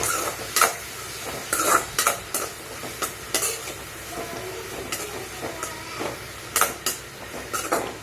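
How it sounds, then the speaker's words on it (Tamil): Vegetables sautéed in a pan for vegetable noodles, seasoned with turmeric and salt, sizzle steadily while a spatula scrapes and taps the pan in repeated close strokes. "நல்லா வதக்கிக்கோங்க."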